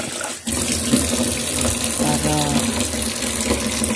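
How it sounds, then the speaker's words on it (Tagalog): Tap water gushes steadily into a cooking pot while biko, a sticky rice dish, is being prepared, a loud continuous rush close by with a voice speaking briefly over it. "Dagdagan natin ng tubig konti"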